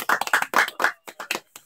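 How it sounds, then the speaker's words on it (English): A few people clap their hands in a radio studio, giving a quick run of about nine sharp, close claps in an uneven rhythm that trails off. "that deserves a clap"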